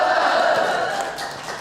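Audience applause at an Indonesian religious lecture, a dense wash of many hands clapping that holds steady and fades slightly toward the end, with no talk over it.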